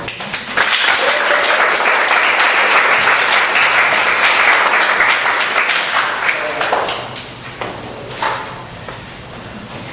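Audience applause welcoming a speaker at a school speaker series, a dense, loud burst of clapping from a crowd that swells and then thins into scattered claps and faint room noise.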